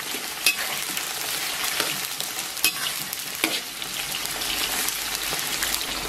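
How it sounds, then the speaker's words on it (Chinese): Scallion and ginger stir-frying in warm oil in a wok, a close, lively sizzle broken by a few sharp clacks and scrapes of the spatula, with no voices. "简单咱们给它煸炒一下。"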